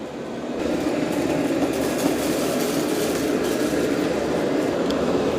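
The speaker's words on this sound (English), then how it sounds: "we can hear it picking up all the dirt and debris" A Shark AI Ultra robot vacuum with Matrix Clean picking up dirt and debris in a messy room, giving a steady broadband whirring roar with faint crackles throughout and no talking.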